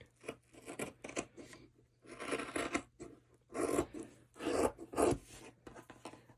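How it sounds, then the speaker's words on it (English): Scissors snip through three layers of fabric and cotton batting for a sewn coffee cup coaster, several bursts of crisp cutting separated by short pauses, close and fairly loud, with no talking. "And then cut all the way around. Make sure you're getting through all 3 layers."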